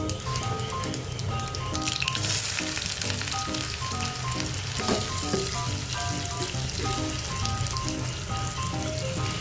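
Chopped onions hit hot oil with mustard seeds in a home kitchen pan, a dense steady sizzle with faint popping and occasional stirring, continuous and close.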